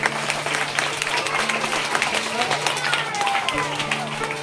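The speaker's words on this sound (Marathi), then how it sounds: "या ठिकाणी सर्वांनी टाळ्या वाजवून सरांचं अभिनंदन करतो" Audience at a school seminar event applauding to congratulate a teacher, steady clapping with crowd murmur and some voices mixed in throughout.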